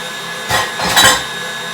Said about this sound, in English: Now I'm going to turn the grinder up just a bit